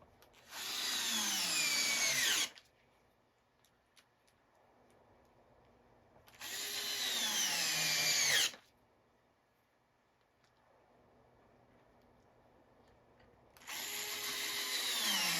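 A power drill drives screws into wood while a Solar Fox arcade cabinet is being repaired, giving three sustained whirring bursts of about two seconds each, the pitch sliding as each screw seats, with quiet pauses between.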